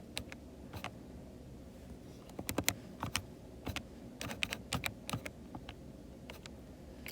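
Calculator keys are pressed in quick irregular bursts of light plastic clicks, close and clear against a faint background hum with no voices.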